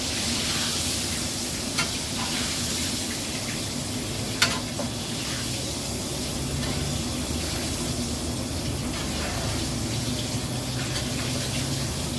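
Continuous, dense sizzling and crackling of chicken frying in hot oil, steady throughout with a couple of sharper pops.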